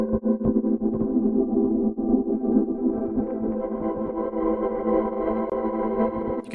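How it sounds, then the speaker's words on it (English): Mondo Loops Dust Verb effect running in grains-only mode, giving a steady, dense granular wash of shimmering, chorus-like texture with faint clicky grain bursts, sustained and even in level throughout. "So here you can change it to just grains only mode. So now we're only hearing the grains."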